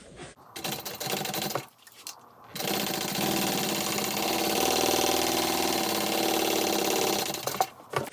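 A sewing machine stitches the seams of a handbag, whirring in steady continuous runs with short pauses between bursts, loud and close with no talking.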